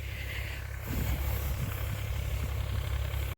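A tractor engine runs steadily while spraying a wheat field, a close, constant low rumble with a slight lift in level after the first second and no talk.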